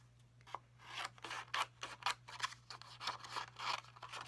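Scissors snip repeatedly through strips of stamped paper for Christmas gift tags, a quick run of close, crisp cuts with short pauses, steady low hum beneath, no talking.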